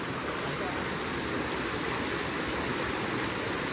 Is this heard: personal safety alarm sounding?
no